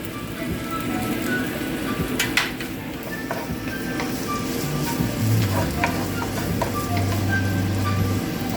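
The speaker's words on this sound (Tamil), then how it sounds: "இதையும் நாங்கள் சேர்த்து பொரித்து கொள்வோம்" Roasted gram (pottukadalai) fries in oil for a potato dish, giving a dense, continuous crackling sizzle like rain on a surface. It stays steady and fairly loud throughout, with faint stirring clicks and no voices.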